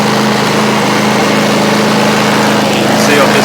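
A Fuji Micro 3700ER generator, started after sitting unused for about a year, runs steadily under load with a loud, close, continuous engine drone and no pauses.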